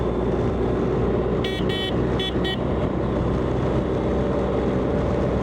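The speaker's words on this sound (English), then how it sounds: "He wanted a honk." A car horn honks in a few short bursts over steady road and engine noise, two quick toots then two more.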